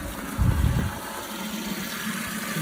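Water gushing from an inlet pipe into a tank float on a portable watering setup for grazing dairy cattle, a steady close rushing flow with a brief louder splash near the start.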